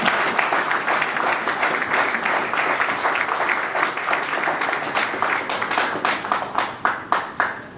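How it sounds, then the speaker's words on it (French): An audience applauds steadily at a formal installation ceremony, dense clapping that carries on throughout and thins into a few separate claps near the end. "Applaudissez s'il vous plaît."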